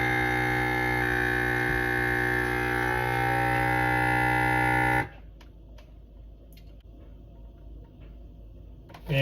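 A Cryovac vacuum sealing machine running with a steady loud droning hum for about five seconds, then cutting off abruptly into quiet with faint clicks and a brief return at the end.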